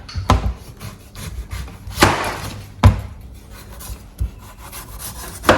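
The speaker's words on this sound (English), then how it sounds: "Guys, we start by peeling our yam." Knife scraping and rasping along a yam as it is peeled in a Ghanaian kitchen in Sunyani, close and fairly loud, with a few sharper knocking strokes at irregular intervals against a steady rubbing texture.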